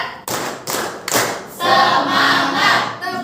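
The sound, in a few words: group clapping in rhythm game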